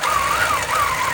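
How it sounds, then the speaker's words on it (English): Quilting machine stitching a quilt on a Grace frame, a steady mechanical whir with a cyclic rising and falling hum, moderately loud and close, no voices. "I'm just sewing it"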